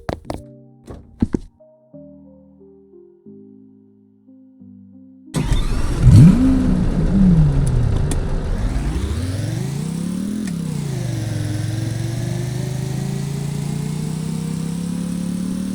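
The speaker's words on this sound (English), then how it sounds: "It's time to test drive the Nemesis 16 using big wheels." Nemesis 16 car fitted with big wheels in the Roblox game A Dusty Trip: a few menu clicks and tones, then a thunk as the engine roars in, revving up through rising pitch sweeps and settling into a loud steady drone.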